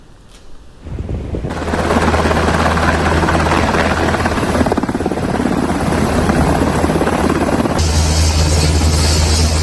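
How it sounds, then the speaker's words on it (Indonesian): A military helicopter lands at a hospital helipad, its rotor and turbine roaring loud and close in a steady drone that swells after a quiet start, with a high whine near the end. "Helikopter militer Zionis Israel mendarat di landasan helikopter rumah sakit untuk mengevakuasi tentaranya yang terluka"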